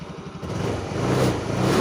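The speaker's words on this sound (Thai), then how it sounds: "โอเคผมจะเร่งอยู่ประมาณนี้นะครับ เร่งเครื่องนิดนึงให้ล้อมันหมุน" Car engine revved steadily while its battery is charged, a low, rough, mid-pitched drone rising a little in loudness as the throttle is held open, close by with no talk.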